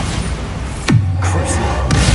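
Bombarda exploding spell in the Hogwarts Legacy video game: a heavy thudding blast with a sliding low boom, followed by a softer thump a second later, loud and close over a steady game ambience.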